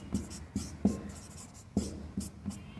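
Pen writing maths notes by hand on paper, close and fairly quiet, a series of short scratchy strokes and taps in an uneven rhythm.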